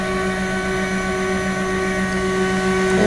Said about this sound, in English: So now we'll hit start print.